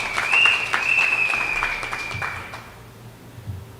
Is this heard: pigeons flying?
no